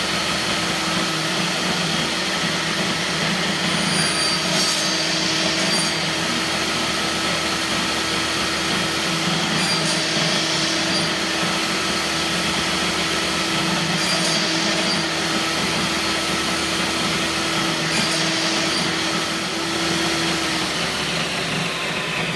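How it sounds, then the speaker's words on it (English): Steady whine of a spinning saw blade as a sled is run over it to notch wood, a continuous motor drone with faint periodic cutting swells, no talking. "as the blade spins, I'm going to run the sled over it like that, and it's going to notch everything out"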